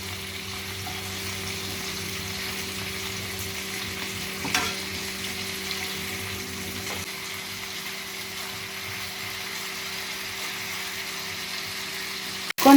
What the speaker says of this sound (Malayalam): കൊഞ്ചൊന്ന് ഫ്രൈ ആയി